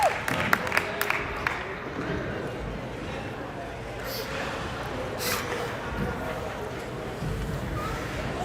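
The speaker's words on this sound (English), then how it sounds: "Cheering as two of the Knights ran into each other." A crowd cheers and applauds at a Kansas City Stars vs Kansas City Knights hockey game, a steady rumble of voices and clapping under continuous talk, with some sharp knocks near the start.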